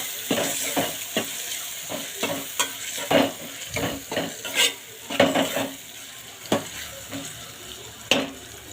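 Chilli powder gets stirred into a liver gravy in a pan, with a spoon scraping the metal in irregular, fairly loud strokes over a constant background sizzle, close up.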